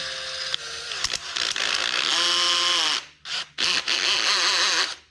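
A cordless drill on drill setting whirs steadily at high pitch, then cuts out and restarts in short bursts, with a mechanical ratcheting edge throughout; its clutch is burned up.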